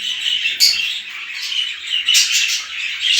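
Canaries newly paired in a breeding cage give bright, rapid chirps and tweets up close, rising and falling in short bursts with no talking.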